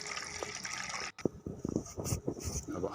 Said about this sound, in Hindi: तो अब इसमें पानी डाल लेंगे फूड कलर में और नमक में।